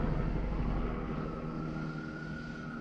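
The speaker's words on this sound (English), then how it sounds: "there's an airplane passing" An airplane passes overhead as a steady, broad engine roar that fades slightly over a few seconds, distant and with no talking.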